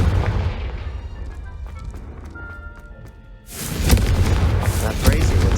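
A Confringo fire spell bursts in Hogwarts Legacy, a sudden loud fiery explosion with a roaring, crackling tail that follows a calmer stretch of quiet game ambience.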